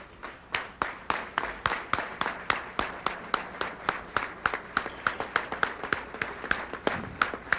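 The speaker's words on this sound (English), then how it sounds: "to give Naila Asali and the members of the board the applause and the ovation they deserve" Convention audience clapping in a steady, even rhythm, each clap a distinct sharp beat, with a crowd heard fairly quietly from a distance.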